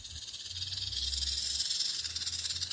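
A voice imitates a serpent's hiss, a steady breathy hiss sustained for nearly three seconds, close and fairly loud, with a low rumble underneath.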